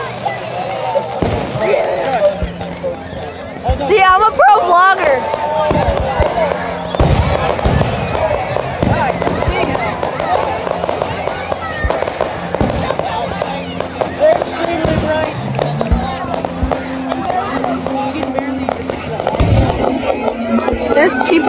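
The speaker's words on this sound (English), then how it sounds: "Boom! Explosion!" Fireworks burst outdoors in several sharp, loud bangs that stand out from a steady background, while people talk and shout close by through most of the stretch.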